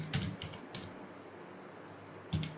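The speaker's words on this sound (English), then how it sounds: "Now here we will type" Several quick keystrokes tap on a computer keyboard, faint and close, with a short cluster at the start and another near the end over a low background hiss.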